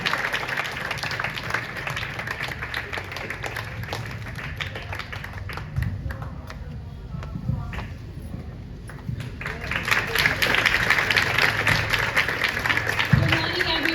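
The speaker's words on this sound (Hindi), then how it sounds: "जोरदार तालियों से उनका स्वागत करते हैं।" At a student event, an audience claps steadily to welcome a student and her parents to the stage, with the applause swelling louder toward the end as a voice speaks over it.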